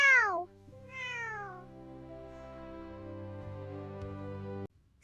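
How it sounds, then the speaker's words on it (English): A kitten, a female answering her mother, gives two high, falling meows close by, followed by a long steady tonal drone that cuts off near the end. "Meow. She answered her mother."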